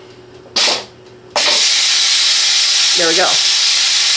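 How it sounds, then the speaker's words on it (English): Pressure cooker holding frozen rabbit or chicken venting steam: a brief loud hiss burst, a pause, then a sustained, loud, forceful steam roar that continues steadily to the end, with a short spoken remark over it. "if you are releasing the steam"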